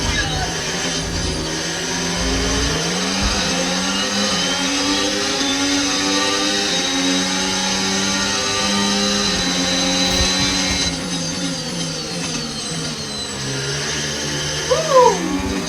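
An F1 car engine screams in the F1 25 racing game during an overtake, loud and continuous, with rising and falling revs through gear changes, while a voice talks over it.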